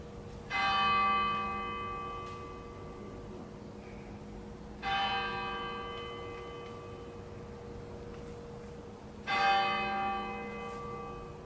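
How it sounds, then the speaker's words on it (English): Durham Cathedral bells ringing the hour, three loud clear strikes about four seconds apart, each ringing on and slowly fading, heard from nearby outdoors in quiet surroundings. "The cathedral bells are currently going off as well."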